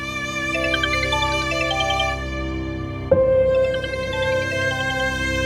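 A phone ringtone for an incoming call plays as a steady electronic melody, clear and moderately loud, with a brief sharp click partway through before the tune carries on over faint background music.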